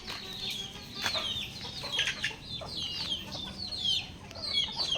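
Two-month-old backyard chickens cluck and chirp close by, a busy run of short, repeated high calls overlapping one another over soft background noise, with no voices.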